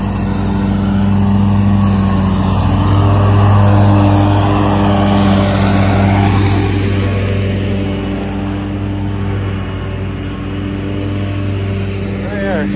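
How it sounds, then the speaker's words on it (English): A lawn mower engine drones loud and steady close by while mowing down a hill, its even hum dipping slightly toward the end, and no talk is heard. "Then I just have to mow everything else down this hill."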